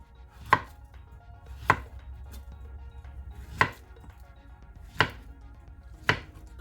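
A knife cuts through food on a board in five crisp, evenly spaced chops, close and clear against a quiet background, slicing pieces for deep frying.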